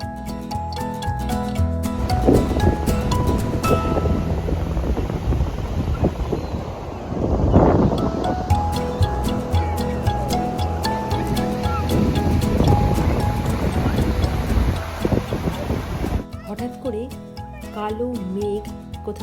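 Sea waves wash in and out along a beach under a constant broad rush of surf, with wind buffeting the microphone; people talk faintly through much of it.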